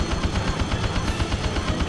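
Rapid cannon fire from an aircraft in a PlayStation combat game, a steady run of evenly spaced loud bursts continuing throughout with no pauses.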